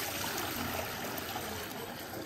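Water pours steadily into a pigeons' bathing bowl, a soft, continuous splashing rush heard faintly and alone for a couple of seconds.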